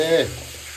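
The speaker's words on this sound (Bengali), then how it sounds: "দেবো আদা বাটা সমস্ত একটু ভালো করে কষাবো" Ginger paste fries in a pan as it is stirred, giving a brief, steady sizzling hiss that follows a short burst of voice at the start.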